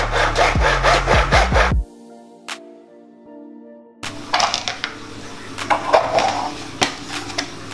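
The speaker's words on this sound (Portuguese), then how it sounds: "Vamos usar um serrote" A handsaw cutting a gutter in a mitre box, with quick rhythmic back-and-forth rasping strokes up close, then a quiet pause with a faint tonal hum, and afterward scattered scraping, clattering handling noises.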